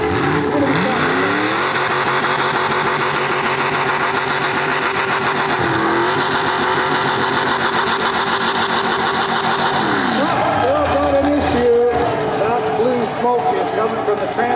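A mini rod tractor puller engine revs loud and sustained, its pitch sweeping up and down with throttle changes, then shifting to a rougher, choppier note near the end.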